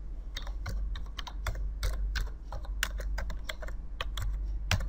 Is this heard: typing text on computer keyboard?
yes